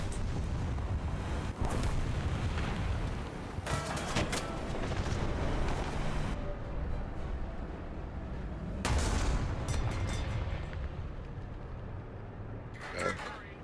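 Artillery fire in War Thunder booms in several heavy, rumbling bursts spaced across a noisy battle ambience, with the intervals between them filled by quieter engine and battlefield noise.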